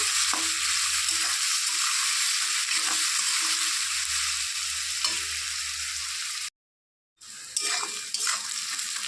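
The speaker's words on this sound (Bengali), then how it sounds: "পেঁয়াজটা লাল হয়ে গেছে ভাজা" Onions sizzle in a hot pan with a little salt, the frying loud and continuous as a spoon stirs and scrapes, with a brief silent break before the sizzling resumes.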